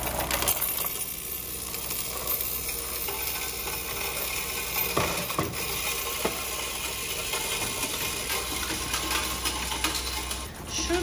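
Loose change from a wallet runs through a coin counting machine, giving a continuous sorting rattle and clatter of metal coins, with a few sharper clinks standing out midway.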